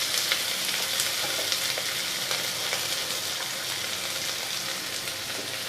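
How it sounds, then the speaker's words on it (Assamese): Chopped onions fry in hot oil in a pan for a Pumpkin-seed and fish recipe, giving a steady, close, continuous sizzle with faint crackles and no talk. "তেল দিছোঁ আৰু এইখিনি মই ৰংচোৱাকৈ ভাজিম"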